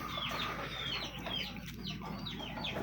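Chickens in a coop cluck and chirp in a busy, continuous chorus, with short rising calls repeating close by over a steady background noise.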